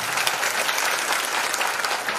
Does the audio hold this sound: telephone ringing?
no